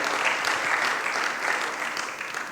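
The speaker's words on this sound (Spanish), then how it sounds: "Dale un aplauso al Señor" A church congregation applauds at a Spanish-language service, a dense, continuous wash of clapping filling the room for the whole stretch.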